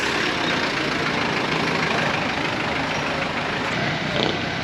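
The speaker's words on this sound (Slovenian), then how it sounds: "Zanimiv avtek, to je avtobus." A bus engine idles in a steady, unbroken diesel rumble, moderately loud and close, with no voices over it.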